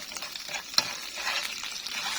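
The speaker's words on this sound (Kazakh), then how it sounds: "Кішкене томат қуырылсын" Tomato paste fries and sizzles in a pan while being stirred, a crackling hiss with scraping stirs and one sharp clink, close and moderately quiet.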